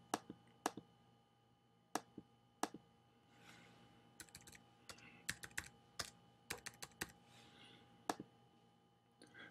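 Typing on a computer keyboard in short irregular bursts of light, crisp key clicks with pauses between, close and fairly quiet against a low steady background hum.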